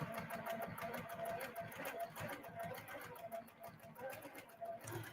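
A sewing machine stitching during free motion quilting runs in a fast, steady mechanical chatter throughout, fairly quiet and close, with a faint voice underneath.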